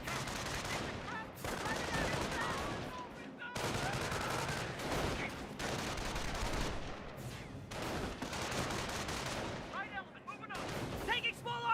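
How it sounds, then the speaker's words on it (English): Company of Heroes battle audio fills the stretch: bursts of small-arms and machine-gun fire rattle in dense volleys, with heavier booms and mid-range rumble between. A voice talks intermittently over the combat. "Taking small arms fire here!"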